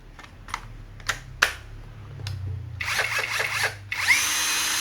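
A Fuyaon cordless drill on a 16.8-volt battery clicks a few times, then whirs in short bursts before settling into a steady, high-pitched run.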